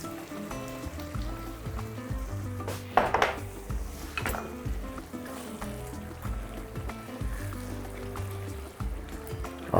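Grated tomato is poured into a pot of beef and vegetable sauce, giving a couple of wet, splattering bursts with light clinks of the pot, over steady background music.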